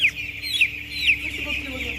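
High, thin peeping calls from chicks on a chicken farm repeat in quick bursts over a steady background hum, fairly close and moderately loud.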